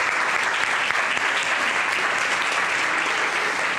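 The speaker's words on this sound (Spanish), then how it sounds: "Un gran aplauso para los 4 y gracias." Audience applauding a panel of four at the close of a talk, steady dense clapping throughout, fairly loud and near, with no one speaking.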